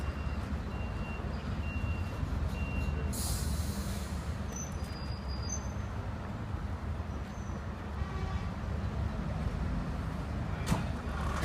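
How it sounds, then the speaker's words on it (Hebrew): A combined firefighting and rescue vehicle pulls up during a rescue training exercise: a constant low engine rumble, with faint intermittent beeps and brief higher noises over it. "כרגע הצוות מגיע למקום על גבי רכב סער"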